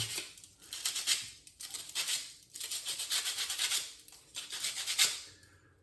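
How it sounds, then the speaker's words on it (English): Sandpaper rubs a burr smooth on an Estes Crossfire ISX model rocket part, about five short rasping strokes in a loose rhythm, close and fairly quiet. "We want to get that sanded down pretty good. So it's smooth."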